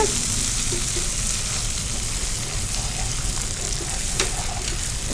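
Bitter gourd curry with cream, onion and green chillies frying in a pan, a loud, dense, constant sizzle and bubbling heard up close without interruption and without talk.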